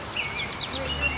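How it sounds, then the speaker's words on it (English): Faint, high bird chirps flutter in short bursts over steady outdoor background noise, fairly distant and light. "She loves hearing the birds chirp."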